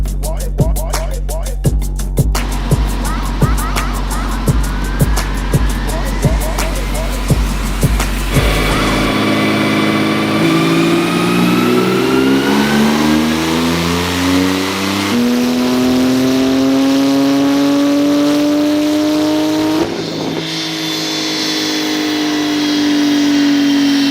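A tuned Porsche 991.2 Turbo fitted with an ARMYTRIX exhaust crackles through a run of sharp, rhythmic pops, then revs up in long, rising sweeps, loud and close, with no talk over it.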